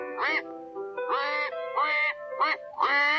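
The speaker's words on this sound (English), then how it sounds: "Then Simon heard an angry quacking and went to the duck pond." Cartoon ducks quack angrily on a pond, a series of loud, nasal, close quacks in uneven bursts, some overlapping, with short pauses between them.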